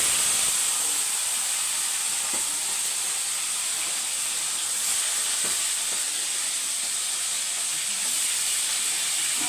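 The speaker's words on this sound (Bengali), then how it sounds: "মাছের মাথাগুলো ভাজা হচ্ছে" Katla fish heads frying in hot oil, giving a steady, bright hiss that holds evenly throughout with no voices.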